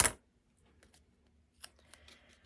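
Scissors cutting double-sided sticky tape for a paper craft project, a sharp snip right at the start followed by near silence and a few faint clicks and rustles close by.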